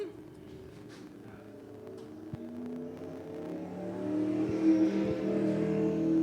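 A race car, number 64, runs laps at Lee USA Speedway, its engine a steady mid-pitched drone that swells louder toward the end, with a brief crackle of other sounds mixed in.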